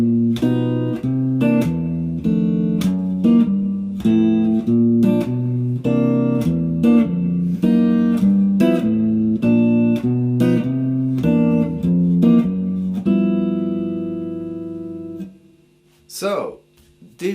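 On jazz guitar, a walking bass line is played with chords in a duplet exercise: steady, evenly spaced plucked bass notes with chord stabs, close and clear, ending on a ringing chord followed by a brief stray sound.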